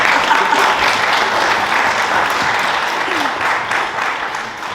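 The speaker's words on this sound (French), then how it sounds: "Et là je crois qu'on peut applaudir ça." Warm, sustained applause from a conference audience, dense clapping filling the room evenly and tapering only slightly near the end.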